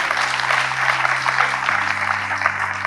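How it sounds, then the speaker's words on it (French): Audience applause at a reception honoring the 2023 Africa Cup of Nations trophy win by Côte d'Ivoire, a brief dense burst of clapping over a low steady hum. "Il faut vous applaudir, c'est votre trophée."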